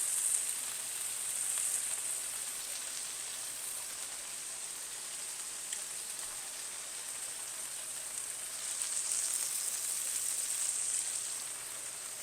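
Burger patties, thick rather than smashed, sizzling steadily in a pan with a continuous hissing crackle, moderately quiet and unbroken, with no talking.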